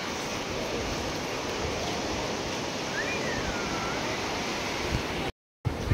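Sea waves wash onto the beach at Revdanda near Alibaug in a steady, even roar of surf that fills the whole stretch, broken by one brief dropout near the end.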